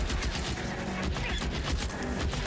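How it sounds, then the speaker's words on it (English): Sustained automatic gunfire in the video game L.A. Noire, a dense, continuous rattle of rapid shots at steady loudness, like a stationary machine gun firing without pause. "Is that a bar or is this a stationary machine gun?"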